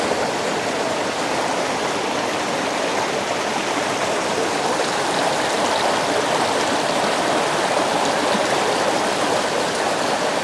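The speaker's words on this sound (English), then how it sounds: "I'm gonna wash the rice" Rice being washed by a river in outdoor bush cooking in Portland, Jamaica, heard as a continuous loud rush of flowing water with no distinct splashes standing out.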